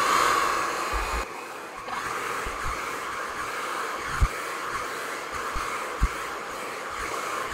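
A Conair Infiniti Pro Ion Choice hair dryer with an attachment blows a steady airy whoosh, close and continuous, with a few soft thumps of handling and no talk.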